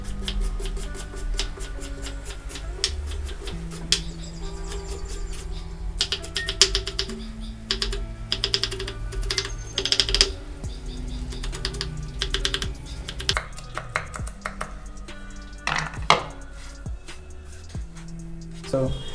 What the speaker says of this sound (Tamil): வெங்காயத்தை நல்லா சின்னதாக வெட்டிக்கோங்க.